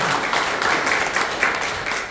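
At a Korean literary forum, an audience claps to welcome a poet to the stage. The steady applause is loud, dense and continuous throughout.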